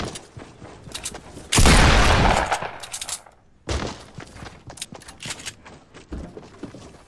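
Fortnite gunshots in a battle royale duo match: scattered bursts of rapid automatic fire, one long loud volley in the middle, then a brief silence before more sharp shots resume.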